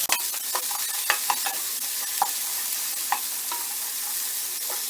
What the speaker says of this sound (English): I'm just going to keep stirring those until I feel that they're ready